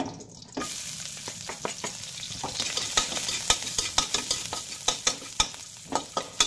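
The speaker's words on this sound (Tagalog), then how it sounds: "Gisahin lang natin hanggang ito ay mag golden brown o kaya lumabas na yung kanyang aroma" Garlic sautéing in a pan sizzles loudly and steadily up close, broken by repeated sharp scrapes and taps of stirring that grow busier as it cooks.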